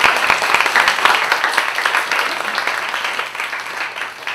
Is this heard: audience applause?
yes